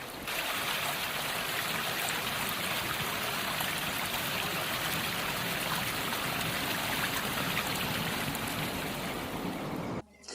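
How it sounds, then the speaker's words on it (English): A stream of cool flowing water near a small farming town in Australia, a steady close rushing and gurgling that fills the whole stretch without pause, no voices over it. "It's cool, flowing water."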